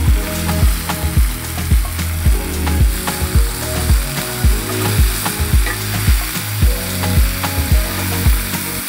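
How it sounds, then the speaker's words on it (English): Food sears in hot oil with a little salt in a pan, giving a loud, close sizzle that pulses in a rhythmic series of scraping, ratcheting strokes as it is stirred or pressed, with no voices. "Then we're just going to sear these off."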